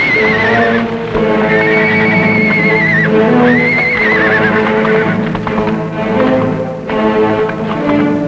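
A horse whinnies loudly several times over steady clip-clopping hooves in an old Western television drama, the neighs rising and falling close at hand.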